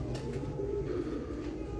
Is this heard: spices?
no